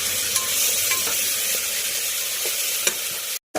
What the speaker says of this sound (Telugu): కడిగి పెట్టుకున్న మెంతెం కూర ఈ ఆయిల్గానే వేసుకోవాలి.